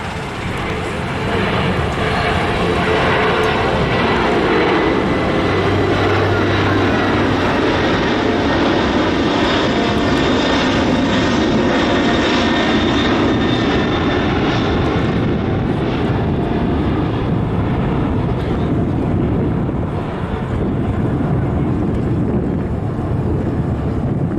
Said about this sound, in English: The KC-46 is now maneuvering for a low-speed pass within 500 feet of the surface